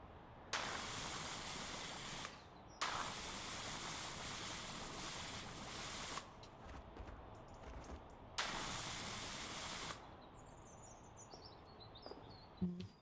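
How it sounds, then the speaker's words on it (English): Pressure sprayer hissing in long steady bursts during cleaning, three loud sustained sprays separated by brief pauses with small clatter between them. "let's go back to our sprayer. Let's get cleaning."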